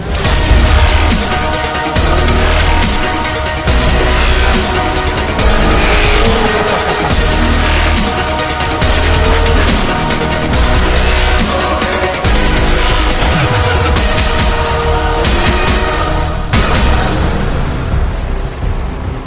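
A Kawasaki Ninja ZX-10R sport bike's engine roars loudly and continuously while riding, with rising and falling revs and gear changes under heavy wind and road noise.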